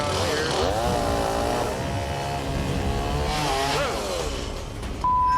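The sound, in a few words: chainsaw cutting through a log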